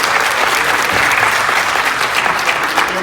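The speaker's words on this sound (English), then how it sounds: "So give yourselves a round of applause." Attendees at a public city budget meeting clap together in a loud, dense round of applause that stays steady from start to finish with no talk over it.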